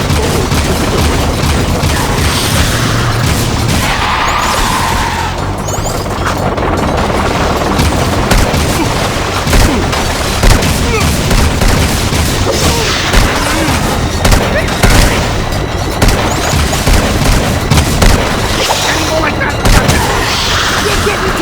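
Gunfire in the video game Jak II: Renegade, dense continuous bursts of shots and booms layered with game music and effects, loud and unbroken throughout, with shouted character voices mixed in.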